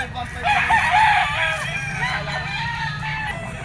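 A yellow-legged Sweater stag, a young gamecock on a farm, crows once in a long wavering call, close and clear over a low hum of background noise.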